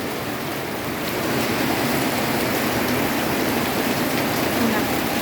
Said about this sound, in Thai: ฝนแบบอย่างแรงเลยนะคะ